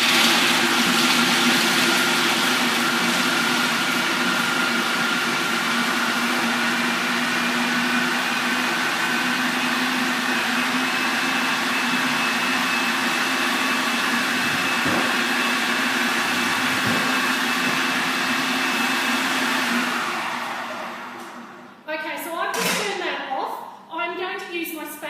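A food processor runs steadily for about twenty seconds, chopping garlic for butter chicken with a loud, even motor whir, then cuts off near the end, where a few scattered clunks follow.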